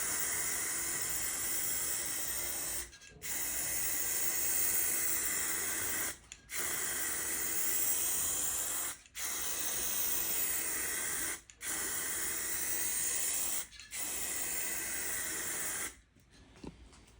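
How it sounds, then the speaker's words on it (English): Aerosol spray can hissing in long steady bursts of about two to three seconds each, five in a row separated by brief pauses, close and loud with no talk. "when you actually use your spray cans at the correct distance with a moderate speed"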